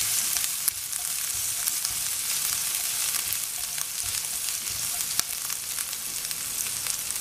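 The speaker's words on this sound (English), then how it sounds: "Just fry it a little." Ginger garlic paste fries in olive oil in a pan, giving a steady, close hiss and crackle throughout with occasional sharper pops and a light stir.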